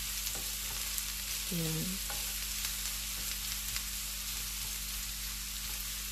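Carrots sautéing in a pan as a side dish, giving a steady soft sizzle and stir throughout, with a brief spoken word near the start.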